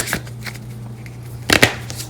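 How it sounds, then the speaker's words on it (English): A deck of tarot cards being shuffled gives quiet, scattered card taps, then a short, sharper riffle of cards near the end, heard close in a quiet room. "So shuffle on these cards."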